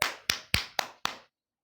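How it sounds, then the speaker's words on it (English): Five sharp, evenly spaced claps ring out in a primary school science class, each a crisp near slap with a short decay, then silence. "all of you clap for him."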